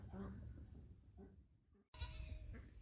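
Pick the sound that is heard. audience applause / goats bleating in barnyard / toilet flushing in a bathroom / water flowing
goats bleating in barnyard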